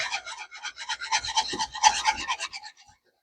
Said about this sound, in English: And just keep on whisking.